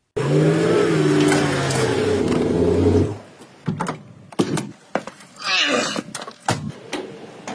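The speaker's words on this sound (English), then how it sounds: "Wow, 5-liter V8 in a Mercedes taxi." A Mercedes-Benz taxi with a 5-liter V8 that has an overheating problem and a faulty thermostat runs loud and steady for about three seconds, then gives way to scattered clunks and rustles close by.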